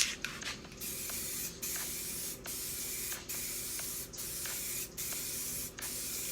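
An aerosol can of primer sprays in short, repeated hissing bursts with brief gaps between them as the can sweeps back and forth in light coats, close and clear, with no talking.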